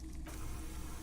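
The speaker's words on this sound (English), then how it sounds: "That's the sound of a Kvalson crane." Kvalson crane machinery in the Disco Elysium harbor, played from a tape recording: a brief, faint mechanical creak and grind, one short continuous burst with no talk over it.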